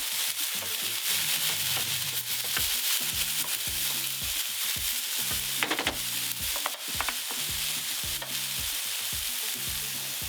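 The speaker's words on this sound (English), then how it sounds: "That's the sugar releasing from the veg, and it's searing and caramelizing in the pan." Vegetables for a burrito filling sizzle and sear as they caramelize in a hot pan, a steady loud frying hiss with occasional stirring scrapes, no voices.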